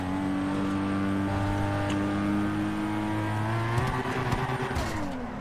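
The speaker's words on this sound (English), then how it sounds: "You're gonna hear this nice ass car drive by." A car engine drones steadily in a video game, its harmonic tones shifting pitch as the vehicle rolls past, loud and continuous with a few short knocks near the end.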